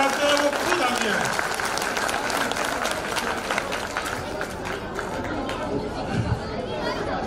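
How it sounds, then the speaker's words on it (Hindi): A crowd at a Sainthwar-Mall-Rajput Trust gathering claps in a dense, sustained round of applause mixed with chatter, with voices audible beneath the clapping. "इसलिए एक ताली ऐसी बजाइए"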